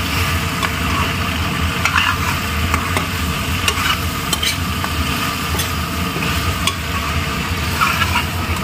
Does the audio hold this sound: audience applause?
no